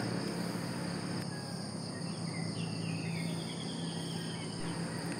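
Crickets and other insects drone steadily at a mountain campsite in the morning, with scattered birds calling and chirping over the constant hum.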